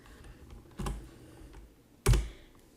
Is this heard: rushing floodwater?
no